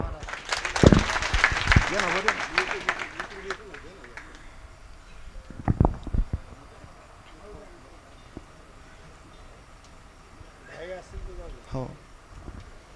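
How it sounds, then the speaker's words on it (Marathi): A crowd at a temple fundraising gathering claps loudly in a dense burst for about three seconds, then a few scattered claps follow amid background voices. "जोरात टाळी वाजवा"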